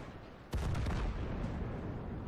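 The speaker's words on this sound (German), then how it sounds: "Da die Explosion, jetzt neben der T29." An explosion in the World of Tanks video game, a sudden loud blast that booms and then rumbles away over a couple of seconds, heard alone.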